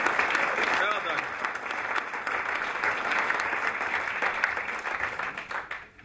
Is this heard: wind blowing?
no